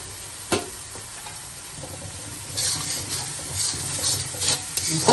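Onions sautéing in a home-kitchen pan before prawns go in: soft steady sizzle with scraping spoon strokes growing busier toward the end, close and moderately loud, no talking.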